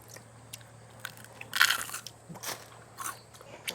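Crispy fried food is bitten and chewed up close, with a loud sharp crunch partway through and smaller crackling chews around it, near and without talk.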